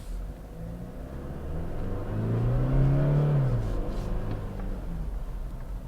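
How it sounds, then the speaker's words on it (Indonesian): A 2022 Toyota Fortuner 2.8 GR accelerating hard, its engine roar swelling and rising in pitch to a peak midway, then easing off, loud and steady with no talk. "Oke, kita gas."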